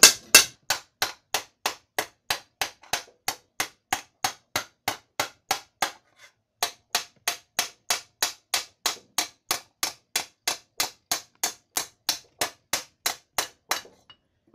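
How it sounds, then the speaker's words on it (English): An auto body hammer from the 1980s beats metal being shaped into a helm, dozens of sharp, evenly spaced ringing blows close up, a brief pause midway, then the steady rhythm resumes. "Auto body hammer from the 80s."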